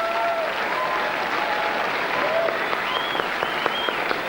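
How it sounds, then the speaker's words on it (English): A large audience at the 2006 Logie Awards ceremony applauds in a continuous, even round of clapping that fills the hall and carries on without letting up. "Would you please keep your applause going for Alistair Smart and John Spencer"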